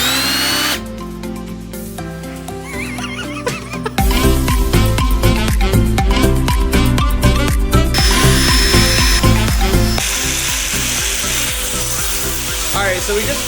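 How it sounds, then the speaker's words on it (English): A power tool cuts a hole, loud and close, with a rapid buzzing chatter that pauses briefly, then resumes harder and continues to the end. "we just finished cutting the hole"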